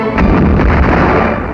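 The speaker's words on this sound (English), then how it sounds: "Schuss! Torpedo läuft!" A WWII U-boat fires a torpedo, a single heavy booming burst with a deep rumbling low end that stays loud across the whole brief moment.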